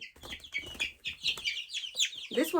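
A hen from a small backyard flock of chicks clucks in a rapid series of short, nasal calls, close and fairly loud, ending in a harsher squawk.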